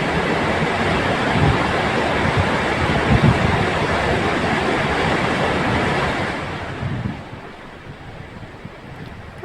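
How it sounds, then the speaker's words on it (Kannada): The Krishna river runs in full flow at the Basavasagar dam. A dense, continuous roar of rushing water is heard close and loud, mixed with wind buffeting, and it eases slightly toward the end. "ನದಿ ತುಂಬಿ ಹರಿತಾ ಇದೆ, ಒಳಹರಿವು ಕೂಡ ಹೆಚ್ಚಾಗಿದೆ"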